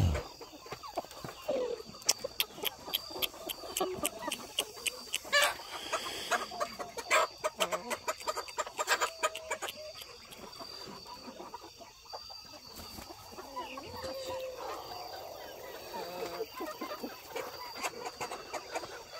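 Guinea fowl clucking and calling close by in a farmyard after a thunderstorm, with repeated sharp chattering bursts and scattered rustling that continue steadily with no talk.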